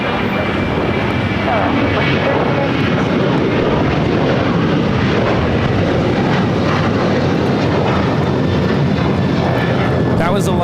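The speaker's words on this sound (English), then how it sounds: "That was Alaska Airlines 1430 taking off to Los Cabos on the 737-900ER." Alaska Airlines Boeing 737-900ER jet taking off from LAX for Los Cabos, a loud sustained engine roar close by, with people talking over it.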